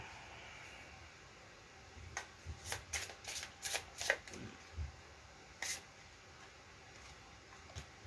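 Tarot cards being shuffled in a quiet room: a cluster of soft riffling bursts and taps through the middle, then a lone shuffle near the end, fairly faint and close with no voices.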